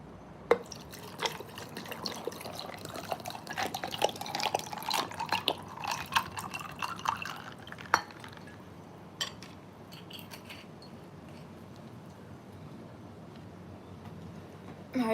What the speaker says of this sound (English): Pour me some water too.